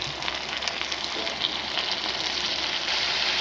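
Meat goes into a pan of frying onions and chopped chilli, giving a loud, continuous sizzle with crackling spits and a slight rise in intensity near the end, with no voices.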